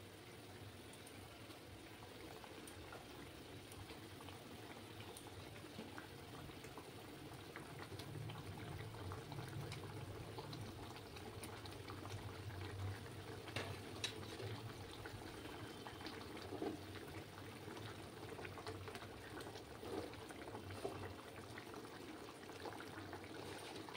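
Katla fish curry simmering in a pan over a lowered gas flame, a steady, soft bubbling and sizzling that continues evenly throughout, with no talking.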